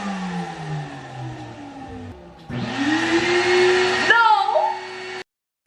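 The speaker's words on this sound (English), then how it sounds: "since my dad started to clean the house, I have to do a voiceover for a while, unless you want to hear the vacuum the whole time" A household vacuum cleaner runs loudly as a dad cleans the house, its motor roaring steadily for a few seconds, rising in pitch, then cutting off abruptly into silence.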